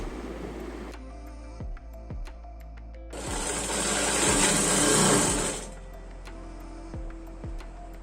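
A sewing machine stitches zigzag herringbone patchwork fabric, with a loud whirring run in the middle framed by quieter ticking and periodic clicks, close and alone.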